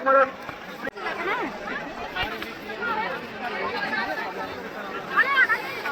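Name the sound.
crowd at the Mauni Amavasya fair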